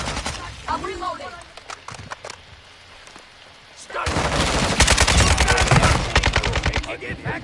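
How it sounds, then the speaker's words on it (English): Video game firefight: scattered gunshots in the first half, then from about four seconds dense, loud automatic gunfire in rapid bursts, with voices talking over it. "Taking active fire!"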